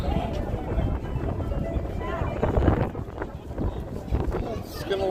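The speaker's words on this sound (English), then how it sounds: "It's getting a little windy now." Wind blows outdoors on a Saturday night in Las Vegas, buffeting the microphone with a continuous low rumble and gusty rush alongside busy background noise.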